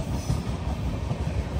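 The Visakhapatnam–Kollam Express rumbles steadily along the track with a rhythmic low clatter of wheels, heard from inside the carriage as a continuous, moderately loud roar.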